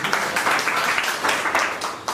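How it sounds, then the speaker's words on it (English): A small classroom audience applauds a student, with a brief burst of scattered hand clapping heard fairly close and fading slightly toward the end. "Please clap for her."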